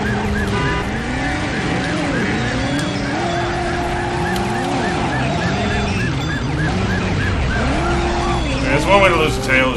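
Tires squeal in a full-throttle burnout in the Driver video game, with a car engine wailing and rising and falling in pitch continuously throughout under game effects.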